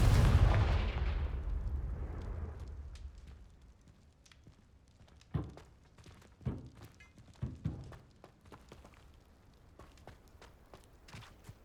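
In the Hogwarts Legacy video game, a Confringo blasting spell bursts open with a loud booming explosion that fades over a couple of seconds. Several sharp thuds and impacts follow at intervals.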